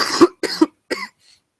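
Three quick, harsh coughs in succession, close and fairly loud, followed by silence.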